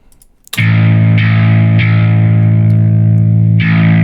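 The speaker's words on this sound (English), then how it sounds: "when you boost the 2000 Hertz area, you get this really metallic tone for it" Loud, heavily distorted electric guitar chords with a boosted 2 kHz EQ, sustaining with a harsh, metallic, mid-heavy edge, re-struck a few times and ringing continuously.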